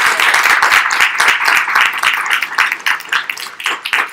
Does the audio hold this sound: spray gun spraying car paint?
no